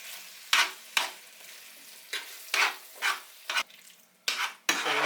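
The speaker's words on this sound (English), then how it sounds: "to sit here and simmer on a low heat" Sloppy joe mixture sizzles in a pan on low heat while a utensil stirs and scrapes it in a run of loud, close strokes about half a second apart.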